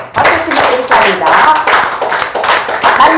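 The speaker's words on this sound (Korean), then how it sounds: "박수 한번 쳐보세요." A seminar group claps hands together in a rhythmic game, with regular bursts of clapping repeating about every half second, close and fairly loud.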